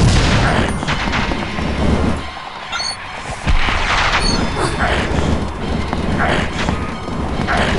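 Jax primary fire in American McGee's Alice is heard during a fight against the Hatter as a rapid string of sharp impact bursts, loud and close, with thuds and clatter between them.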